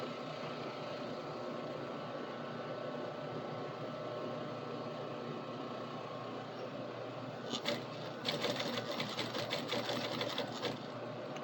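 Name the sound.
sewing machine top stitching a fabric edge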